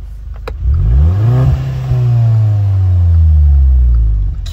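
A Volkswagen Beetle engine revs up from idle, its pitch rising then holding at a steady high drone before easing off, loud and close.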